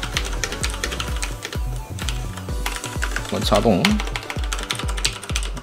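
Close, continuous typing on a Filco Majestouch 2 tenkeyless Bluetooth mechanical keyboard with brown switches, rapid uneven keystroke clatter while someone talks over it.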